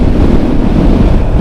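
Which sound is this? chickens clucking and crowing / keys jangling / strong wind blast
strong wind blast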